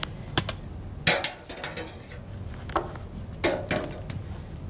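A staple gun drives staples through fabric into a wooden chair frame during reupholstery, sounding as a few sharp, separate clacks with quieter handling and rustling of material between them.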